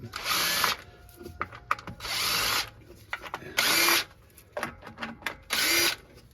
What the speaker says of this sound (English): you're going to need to remove these 6 number 3 Phillips screws